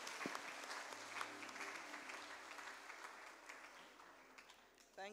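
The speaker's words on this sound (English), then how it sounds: "Can we give them another clap?" A church congregation applauds at a Sunday service during a Mary's Day celebration, a steady wash of many hands clapping together at moderate distance for several seconds, with faint voices mixed in.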